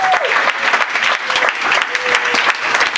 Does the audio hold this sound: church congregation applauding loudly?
yes